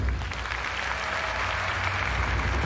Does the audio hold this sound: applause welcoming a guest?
yes